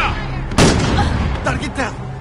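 Gunfire in a PS4 shooter game: a loud sharp blast followed by scattered shots and rumbling over a constant noisy background, with voices mixed in.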